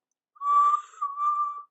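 A whistle from a little steam engine approaching a station, two sustained clear tones with a brief dip between them, close and alone against silence; it may be a human voice or whistling imitating the engine.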